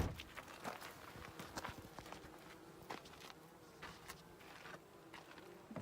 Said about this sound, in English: The bees are so fat here.